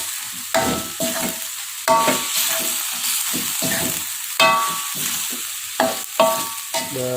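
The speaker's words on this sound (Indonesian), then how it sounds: "Selanjutnya di sini kita masukkan tahu yang kita goreng tadi. Oke, kita aduk." Fried tofu being stirred into cooked spices in a pan for a coconut-milk gulai with Japanese cassava leaves: repeated scraping strokes of a spatula over a steady sizzle, close and fairly loud, with no talking.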